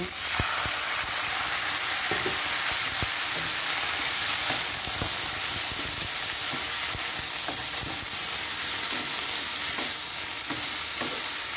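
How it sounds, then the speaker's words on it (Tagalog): Mung beans added to a hot sizzling pot, a dense continuous frying hiss with scattered light clicks and stirring, loud and steady with no talk. "Ito na guys, ilagay ko na yung munggo."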